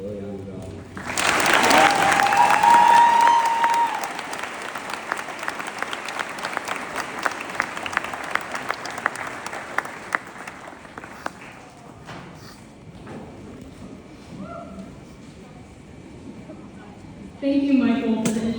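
An audience at a graduation ceremony applauds and cheers for the valedictorian, loud clapping swelling at first then thinning into scattered claps that fade over several seconds before a voice begins speaking.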